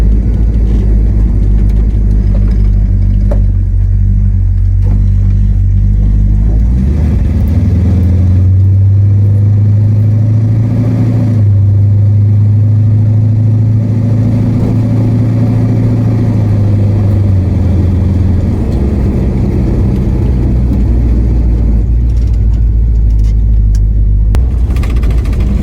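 A car with a modified exhaust drones loudly from inside the cabin while driving down a stretch of road, the engine note swelling as it revs up toward about 2,000 RPM, then settling back into a deep, steady rumble.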